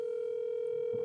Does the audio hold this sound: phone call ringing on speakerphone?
yes